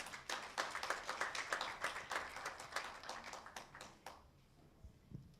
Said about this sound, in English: give her a hand clap as she comes.